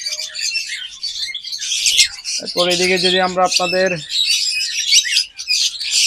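Pet lovebirds, around seven months old, squawk and chirp constantly in a bird shop, shrill calls filling the space close by while someone talks over them.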